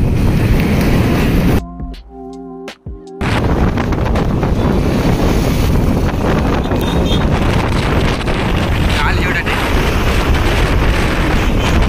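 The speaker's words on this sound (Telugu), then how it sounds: "ఇక్కడ గాలి మాత్రం భీకరంగా వస్తుంది" Fierce storm wind roars continuously on an open embankment during heavy rain in Hindupur, loud buffeting against the microphone with a brief sheltered lull early on, then steady gusting to the end.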